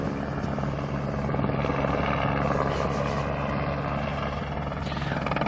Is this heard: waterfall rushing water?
no